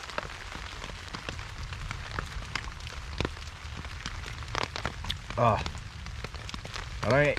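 Rain patters steadily on a tent nearby during a long rainstorm while camping, with scattered sharper drops, and a couple of short soft vocal sounds toward the end.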